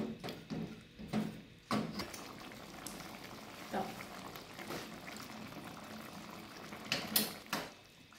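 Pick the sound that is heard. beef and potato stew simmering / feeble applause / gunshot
beef and potato stew simmering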